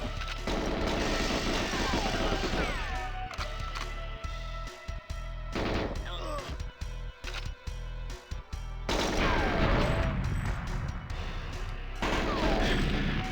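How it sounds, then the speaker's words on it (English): Loud bursts of gunfire and booming explosions from GoldenEye 007 played on Xbox Series X, dense rapid shots broken by short gaps, then a heavy blast rolling out near the end, with a voice talking over parts of it. "I love the explosions in this game."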